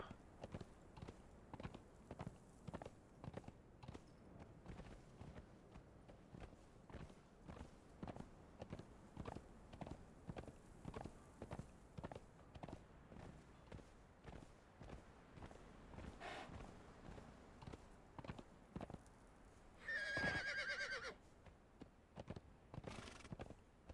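A horse in the video game Conan Exiles being ridden, its hooves clip-clopping in a steady galloping rhythm throughout, with a brief neigh or whinny near the end.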